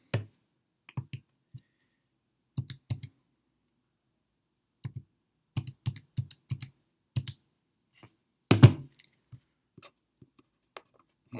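Calculator buttons are pressed with sparse, dry clicks coming singly and in short quick runs, with one louder clattering burst near the end, in an otherwise quiet room.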